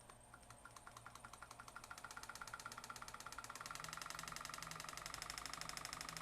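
A Waterpik SF-03 water flosser motor pumps steadily, giving a rapid, even rhythmic pulsing that slightly quickens and grows louder partway through, heard close with no talking.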